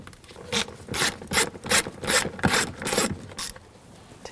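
A ratchet with a 10mm socket removing nuts while replacing the fuel pump module on a 2007-2013 BMW 328i 3.0L L6, giving about eight short bursts of rapid clicking, close and loud, with no talking.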